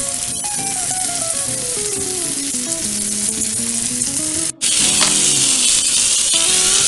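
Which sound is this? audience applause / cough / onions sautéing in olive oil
onions sautéing in olive oil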